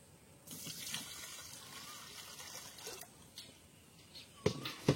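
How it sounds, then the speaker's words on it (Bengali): Water pours and trickles into granular fertilizer for dragon fruit plants, a steady splashing stream with a few louder sloshes and knocks toward the end as the mix is stirred. "এবার আমরা এখানে প্রয়োজন অনুসারে জলটা দিয়ে গোলাবো।"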